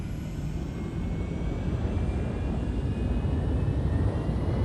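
A spaceship engine in Elite Dangerous throttles up as a loud, steady low roar that swells slightly, with a faint high whine above it and no talk.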